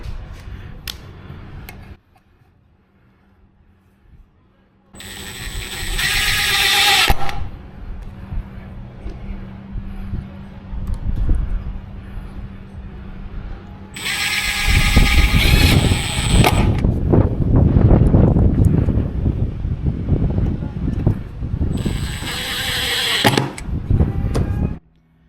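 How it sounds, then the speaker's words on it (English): A power screwdriver drives 3/4 inch pan head screws into a board while an amplifier is mounted for a 2020 Tundra JBL upgrade. Three loud whirring bursts sound between quieter handling clatter and ticking. "I'm going to mount this right here using the 3/4 inch pan head screws that they sent"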